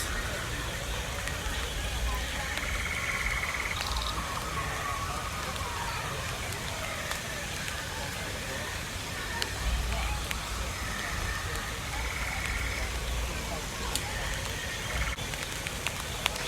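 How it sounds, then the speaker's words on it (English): Steady heavy rain hisses and patters continuously close by, a dense wash of falling drops with little variation. "it's raining heavier right now"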